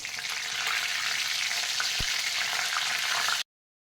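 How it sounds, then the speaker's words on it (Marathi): Cumin, mustard seeds, kokum and curry leaves sizzle steadily in hot oil as a tempering crackles up close, then the sound cuts off abruptly. "तेल जे आहे ते आता चांगलं तापलं आहे आता आपण यामध्ये जिरे मोहरी टाकूयात"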